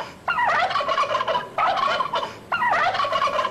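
A turkey gobbling call, played back as an animal sound recording: three loud, rattling gobbles in close succession, each about a second long, with no talk over them.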